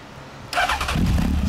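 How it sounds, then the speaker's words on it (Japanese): A 2007 Honda CB1300 Super Bol d'Or motorcycle with a Moriwaki Racing exhaust cranks and fires up, quickly settling into a loud, low idling rumble close by. "エンジンをお願いします。"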